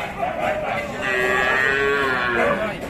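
Cattle at the Railbazar livestock market low loudly, one long drawn-out moo swelling through the middle, with crowd noise and faint voices of traders in the background.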